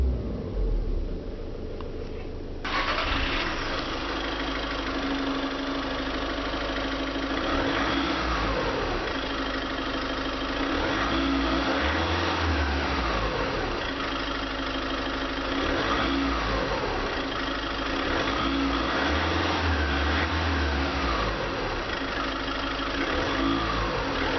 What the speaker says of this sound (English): It's a very quiet and smooth engine and rests about 2500 RPM